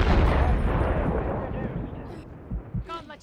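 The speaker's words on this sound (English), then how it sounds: "I'm getting shot from 30. This guy sniping at us." Call of Duty gunfire with sniper shots, a loud booming blast that fades into a rumbling tail, followed by a few sharp cracks, with voices speaking near the end.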